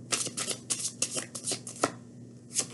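Tarot cards shuffled and riffled close by in a quiet room, a quick run of crisp papery flutters and slaps with short pauses between bursts, no voices.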